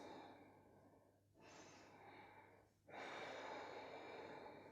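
Ujjayi breathing during a vinyasa yoga session: two long, airy breaths, a softer one followed by a fuller, louder exhale, close and quiet with no talking.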